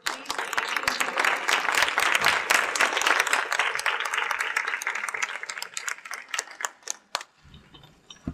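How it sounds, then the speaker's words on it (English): An audience at a health care meeting gives a big round of applause, dense sharp clapping close by that thins out into scattered claps near the end. "And I want you to give Joe a big round of applause"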